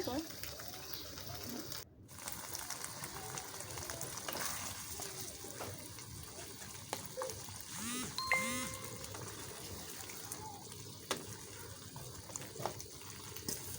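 Water is poured into a pan of simmering chickpeas being cooked for chola bhuna, a steady liquid splashing and bubbling against faint cooking sizzle, with brief clinks along the way.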